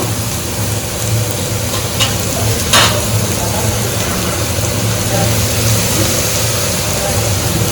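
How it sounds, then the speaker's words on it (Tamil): Ginger and garlic sauté in a pan for a chicken liver roast, a steady close sizzle with a couple of short stirring scrapes, under a constant low background hum. "இஞ்சி பூண்டு பச்சை வாசம் போகலாம் நல்லா வதக்கி விட்டுக்கணும்"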